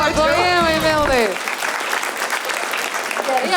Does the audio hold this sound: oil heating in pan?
no